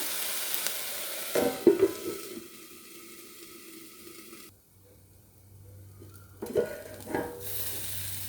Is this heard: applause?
no